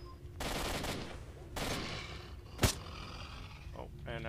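Enemy gunfire in the STALKER: Shadow of Chernobyl video game, a few bursts of rapid automatic shots with one sharp loud crack, fairly quiet overall, with a voice speaking over it.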